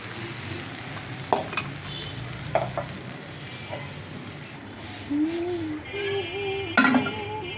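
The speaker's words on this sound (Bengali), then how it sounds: "এখন আমি ভাজিটা তুলে নিচ্ছি।" Fried vegetable bhaji is stirred and lifted out of a pan. A soft, steady sizzle runs underneath while a utensil scrapes and clinks against the pan in a few brief knocks, and a faint voice is heard in the background.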